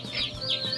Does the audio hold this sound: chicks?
yes